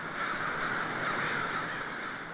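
Crows caw steadily in downtown Portland, a dense chorus of harsh calls layered over constant city noise, loud and close with no talking.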